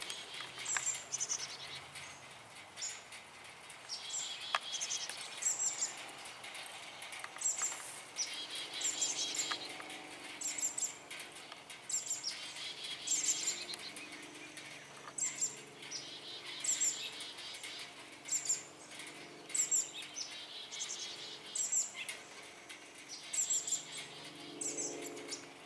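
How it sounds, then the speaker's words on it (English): Small birds inside a birdhouse chirp and twitter in repeated short bursts, fairly close but soft, against a quiet background with no talking. "I know I have birds in this birdhouse here. I can hear them."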